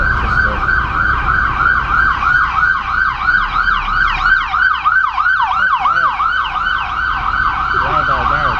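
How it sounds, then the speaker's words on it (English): An ambulance siren wails loud and close, its rising-falling yelp cycling rapidly and evenly, then shifting pattern as it passes by, over a low rumble of road traffic. "I hear a siren."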